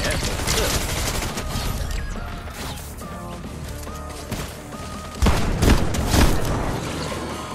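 Fortnite gunfire rattles in dense bursts amid clanking mechanical game effects. It runs steady at first, then a louder cluster of shots and impacts breaks out near the end.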